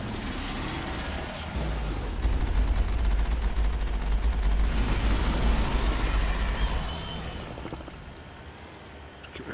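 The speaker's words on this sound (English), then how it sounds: "I might try and just take it out with the machine gun turret." Machine gun turret fire in the video game Mass Effect, a sustained, heavy rumbling burst lasting several seconds at close range over steady background game sound.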